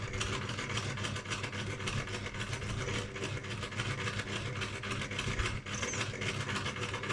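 A sewing machine stitches fabric at a steady pace, its close mechanical chatter humming and ticking continuously with no voices over it.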